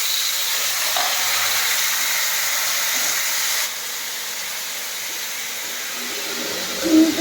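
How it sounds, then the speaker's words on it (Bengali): Curry in a pan hisses and sizzles loudly and steadily after a splash of water is added, with a dense steamy frying hiss throughout that shifts slightly partway and ends with a brief clatter. "একটু জল দিলাম"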